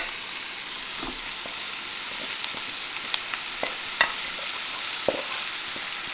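Steak and vegetables fry in butter in a pan, giving a steady close sizzle with occasional sharp clicks and scrapes from stirring. No one speaks.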